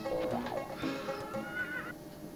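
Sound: horse neighing in a SNES video game

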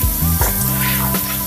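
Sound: ginger garlic paste and coriander powder sizzling in pan for chilli chicken curry

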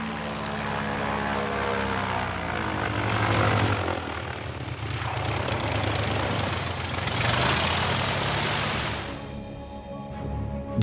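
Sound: propeller airplane landing on an airstrip

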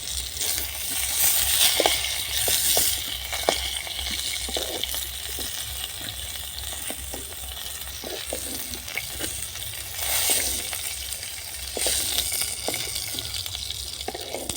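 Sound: potatoes and pointed gourd frying in a pan

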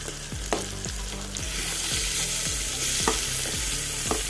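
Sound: vegetables added to the pan and sautéing

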